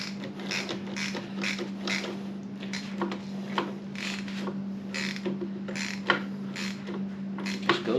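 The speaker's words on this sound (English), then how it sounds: "put our socket wrench on there and start tightening up" A socket wrench ratchets at a steady rhythm as bolts are tightened on the risers of a Harley Lowrider ST, clicking up close over a low constant hum, with a few louder knocks toward the end.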